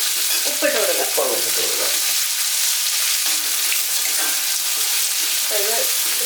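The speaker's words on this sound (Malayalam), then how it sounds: "ഈ സവോള ഒന്ന് നന്നായിട്ട് വഴറ്റിയെടുക്കുക." Onions sauté with a little salt in a pan for a Kerala-style mushroom roast, a constant close sizzling hiss with a few scraping stirs near the start and end, no talk.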